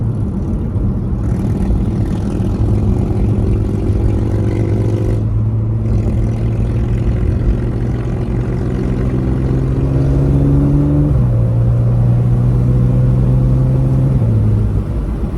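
A stage 2+ tuned B8.5 Audi S5 heard from inside the cabin, its engine droning loudly as it pulls hard through the gears, the pitch climbing steadily with short drops at each shift.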